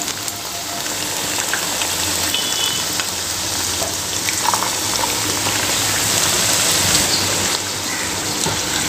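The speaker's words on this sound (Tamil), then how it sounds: "கடாயில் ஆயில் ஊற்றி நல்லா ஹீட் பண்ணிட்டேங்க. இப்போ நம்ம மெதுவாக சோமாஸ் உள்ள சேர்த்துக்கலாம்" Somas, sweet dumplings, deep-fry in hot oil in a kadai, giving a steady, dense sizzle and bubbling that runs close and unbroken throughout, with faint crackles on top.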